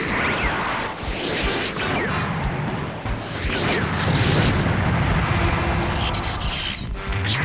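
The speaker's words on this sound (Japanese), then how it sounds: "機体が爆発。" A mecha exploding in the video game Super Robot Wars 30, a roaring, rumbling blast with whooshing sweeps and crackling debris that swells and stays loud throughout, with no speech.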